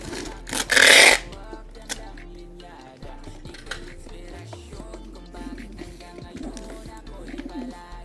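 Two white pigeons coo softly at close range in a short series of low, throaty calls, heard after a loud burst of rustling and scraping at the start, with light handling noises scattered throughout.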